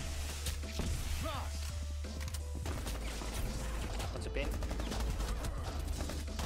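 Pistol gunfire in Rainbow Six Siege, a rapid string of sharp shots and impacts cracking through a busy, noisy game mix, with a few clustered bursts across the stretch.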